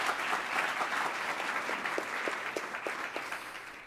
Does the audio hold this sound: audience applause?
yes